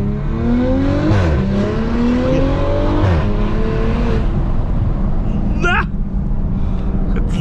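A Porsche sports car with a Stage 2 tune and modified exhaust revs hard and climbs in pitch through several gear changes, loud and close, with a brief squeal near the end.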